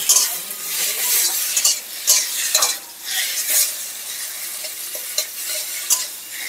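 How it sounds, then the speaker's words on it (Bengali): Taro leaves cooked with coconut paste being stirred in a pan, with bright sizzling frying and repeated scraping, clacking spatula strokes at an irregular pace, close and fairly loud, with no voices. "দিয়ে খুব ভালো করে নাড়াচাড়া দিয়ে নেব"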